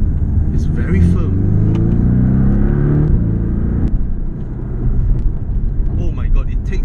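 A 2017 Porsche 718 Boxster S rolls over a rough road patch, its low road and engine rumble steady and close from inside the cabin while people talk over it.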